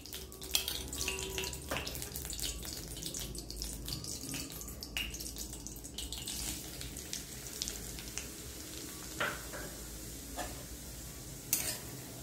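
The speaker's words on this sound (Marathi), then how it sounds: "आता आपण रवा भाजून घेणार आहोत. त्यासाठी आपल्याला 2 चमचे तूप घालायचे." Semolina (rava) roasts in ghee in a pan, giving a soft, steady sizzle with faint scraping and stirring taps, quiet and close, with no talking.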